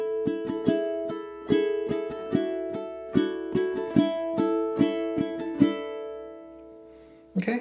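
A ukulele plays a tune strummed in open chords throughout, with crisp, evenly spaced strums ringing clearly on their own and fading out into a brief pause near the end.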